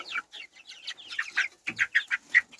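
Several chickens cluck close by in quick, uneven bursts of short calls.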